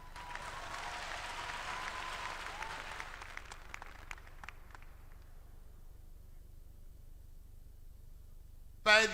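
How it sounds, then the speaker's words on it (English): New graduates at a convocation ceremony applaud in a broad, dense wash of clapping that thins and fades away over several seconds, leaving quiet room tone before a brief loud noise at the very end. "Give yourself a round of applause now."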